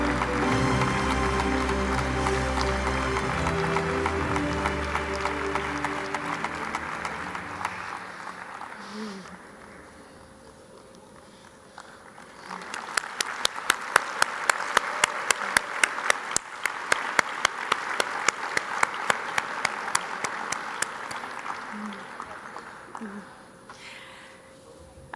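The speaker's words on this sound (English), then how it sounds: "A warm round of applause for Gunsan." An audience at a public dialogue event breaks into applause, a dense wash of clapping that fades, then swells again into a second loud burst with sharp individual claps; some voices are audible around it.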